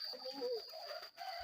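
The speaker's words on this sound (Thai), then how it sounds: "มีแต่เป็ดมีไก่" Chickens cluck briefly among ducks in a rural village, a few soft, faint clucks over quiet background.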